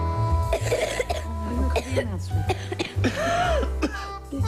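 Coughing and throat clearing in a cough medicine commercial, several harsh bursts mixed with talking voices over low background music.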